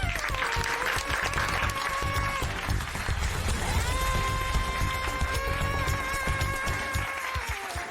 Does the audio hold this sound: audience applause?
yes